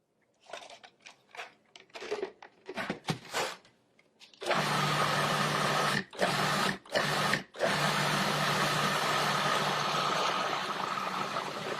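A Cuisinart 14-cup food processor (DFP-14BCNY) whirring loudly and steadily as it purees a cilantro mixture, after a run of short choppy pulses and brief pauses, then a long continuous motor drone.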